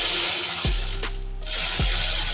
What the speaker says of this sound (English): I know I'm gonna have to use the ratchet.